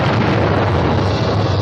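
Dynamite blasts in the soundtrack of the Western film Johnny Guitar, clearing a path through mountains, come as a dense, continuous roaring rumble that cuts off abruptly.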